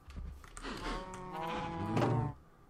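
A sheep bleats in Minecraft, a single drawn-out wavering baa, fairly close and clear, with faint game sounds before it.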